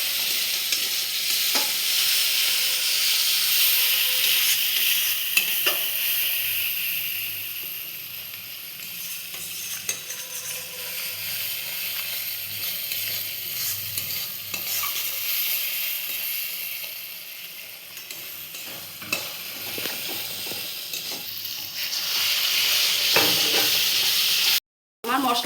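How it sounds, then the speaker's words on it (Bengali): Spice masala for an egg and potato bora curry fries in oil in a pan, with small splashes of water added while it is stirred: a long, steady close sizzle and hiss with scraping strokes, cutting out briefly near the end. "অল্প অল্প করে জল দিয়ে কষাবো"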